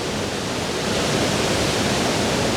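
Plodda Falls, a Scottish waterfall in full heavy flow, gives a constant loud roaring rush of water with no breaks and no voices.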